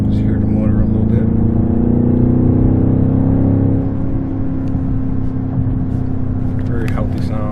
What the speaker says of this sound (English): Just hear the motor a little bit.